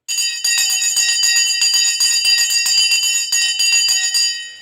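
A bell clangs in a rapid run of repeated, bright metallic strikes right after a countdown, loud and close, ringing out and fading at the end.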